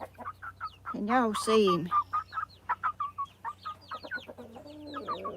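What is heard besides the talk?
chicken clucking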